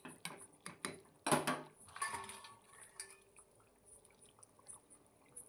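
Fried fish pieces and bori going into a curry of potato, cauliflower and beans in a pot, heard as a run of sharp metallic clinks and scrapes of utensil on pan with soft wet plops, close and fairly quiet.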